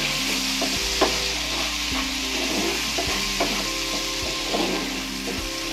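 A spoon stirs sauce into a garlic butter paste in a pan for spicy garlic butter sweet corn, with soft, evenly spaced scraping strokes over a constant low sizzle.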